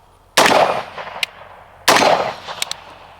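Two loud, sharp reports from an MK18 Block II carbine being test-fired for ejection and recoil, spaced about a second and a half apart, each followed by a brief decaying echo and small metallic clicks.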